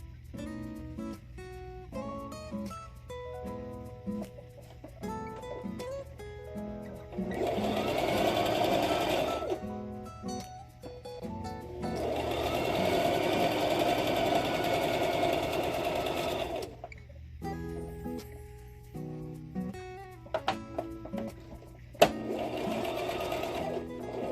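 A small home sewing machine stitches quilt pieces in three long bursts of fast, steady whirring, close and loud, separated by quieter pauses with faint handling sounds.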